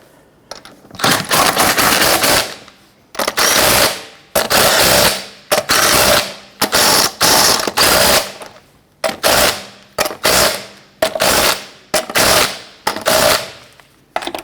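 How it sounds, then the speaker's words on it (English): A power impact tool snugs down lug nuts on a Jeep Grand Cherokee wheel in repeated sharp rattling bursts, about a dozen short hammering runs separated by brief pauses, loud and close. "Let's go ahead and snug those down."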